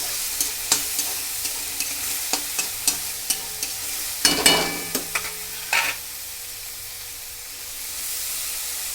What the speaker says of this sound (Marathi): डाळ मिरची सगळं छान परतून घ्या।